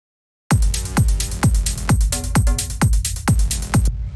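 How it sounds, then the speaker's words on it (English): A steady electronic beat: crisp hi-hat ticks in a repeating pattern over a deep kick drum thumping about twice a second, loud and up close. "So now we have these hi-hats."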